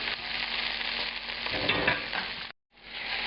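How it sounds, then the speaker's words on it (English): Tomatoes fry in a pan at high heat, giving a loud steady sizzle with stirring scrapes, close up, cut off by a brief silence before the sizzling resumes. "These need to get cooked well and broken down at a high temperature."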